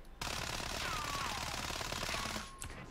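A CR-56 AMAX rifle in Modern Warfare fires one sustained full-auto burst of rapid, even shots, loud and close, cutting off cleanly after about two seconds.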